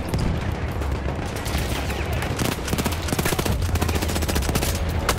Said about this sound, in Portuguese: não sei de onde tá vindo o tiro não